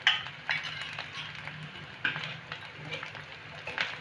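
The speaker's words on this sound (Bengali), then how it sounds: "মশলাগুলোকে একটু সামান্য কষে নেব" A utensil scrapes and stirs turmeric, chilli, coriander and cumin powders with soybean in a pan for soybean do pyaza, giving soft scraping, occasional metallic clinks and a faint background sizzle throughout.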